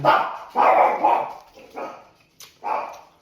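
Several sharp dog barks in quick succession, fairly close, with short pauses between them.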